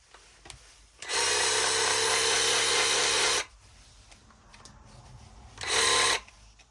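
A brushless Metabo cordless power tool whirs in two bursts, a long steady run then a shorter one, with quiet pauses between.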